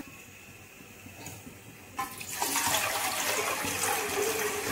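Water is poured from a jug into an idli steamer pot, a sudden rushing, splashing pour that swells and continues steadily, close and loud.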